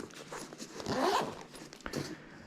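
A zipper on a minimalist travel bag is pulled in a quick rasping run, close and fairly quiet, with a few shorter tugs after it and no talking.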